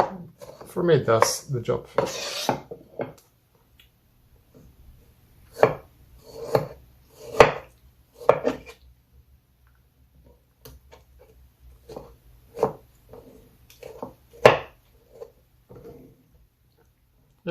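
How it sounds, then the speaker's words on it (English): A knife chops ripe tomatoes on a board for pasta sauce, giving a series of sharp, evenly spaced cuts close up, with a person talking over the first few seconds. "anything difficult, just cut it in pieces"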